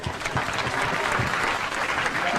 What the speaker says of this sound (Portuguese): Um aplauso para ela.